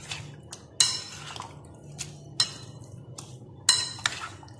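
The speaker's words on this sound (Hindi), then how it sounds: "ये जो सारी स्पाइसेस हैं, ये भी मैं इसमें ऐड कर दूंगी और इसको अच्छी तरह से मिक्स करके" Spices are stirred into a chicken masala marinade in a bowl, with a handful of sharp, bright clinks of a utensil against the dish spaced irregularly over quiet background, no talking.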